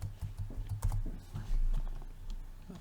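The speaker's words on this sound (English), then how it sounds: "in the password I'll enter my password." Typing a password on a computer keyboard, a quick run of close, crisp key clicks with uneven rhythm over a low hum, no speech.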